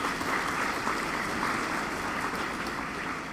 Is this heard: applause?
yes